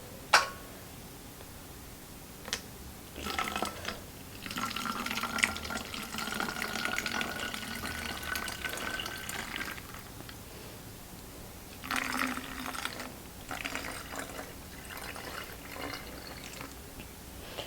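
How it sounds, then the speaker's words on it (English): Water drains from a Thai Constellation plant pot and is poured back into a bottle, heard as soft, intermittent trickling and splashing bursts at close range. "we're going to take the water that I just poured through the Thai constellation and we're going to put it back in this bottle"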